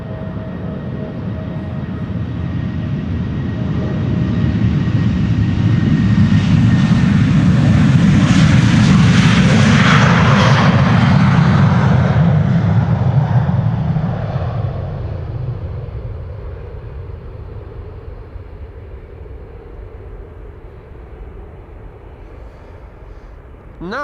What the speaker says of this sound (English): KLM flight 1199 to Oslo is also spooling up over here in the foreground.